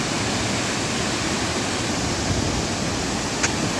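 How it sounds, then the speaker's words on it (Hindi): Steady broadband roar of a large waterfall near Cherrapunji in Meghalaya, an area of extreme rainfall, heard as a constant rushing wash with no pauses and no voices. "ये रहा सबसे बड़ा वाटरफॉल।"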